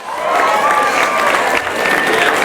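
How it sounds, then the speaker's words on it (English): Audience applause filling a keynote presentation on leadership at William Paterson University, a dense, steady wash of many hands clapping with some cheering, loud and sustained throughout. "Give yourself a round of applause."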